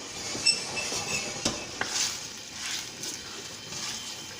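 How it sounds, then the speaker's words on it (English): Food being stirred in a pan over high heat, a soft scraping and sizzle with a few sharp clinks of utensil against the pan, fairly close and steady, with no talking. "Give that a stir"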